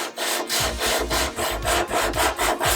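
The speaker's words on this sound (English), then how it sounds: "start sanding down and make this look brand new again" Rhythmic back-and-forth rasping of sandpaper on a glossy Harley-Davidson FXR motorcycle fairing in a cross-hatch pattern, close and loud, repeating in even strokes with no voices.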